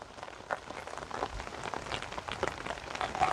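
Rain falls on a terrace garden, a soft steady patter of drops on leaves and surfaces, fairly faint with scattered louder hits.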